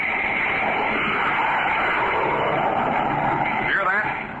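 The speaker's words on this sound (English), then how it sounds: "You're listening to the blazing roar of a jet plane." A jet plane's roar used as a sound effect in an old-time radio drama, a dense, steady rushing roar with a narrow, tinny radio quality that holds constant and dips slightly at the end.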